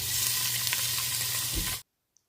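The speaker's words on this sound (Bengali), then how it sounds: "পেঁয়াজ কুচি দিয়ে একটু নেড়ে চেড়ে" Chopped onion sizzling in mustard oil in a pot, a steady loud frying hiss with a brief stir near the end before it cuts off abruptly into silence.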